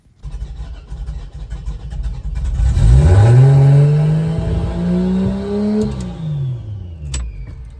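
A Lexus GS300 turbo engine cranks, catches with some throttle coaxing, and revs up loudly, the pitch climbing and holding before easing back toward idle; close and alone without talk.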